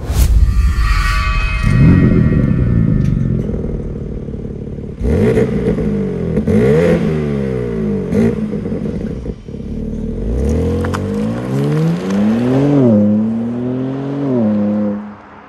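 BMW M3 Competition with a 3-litre six-cylinder engine rumbles at idle outside the car, then revs loudly and repeatedly, climbing and falling in pitch through several sharp blips before settling back.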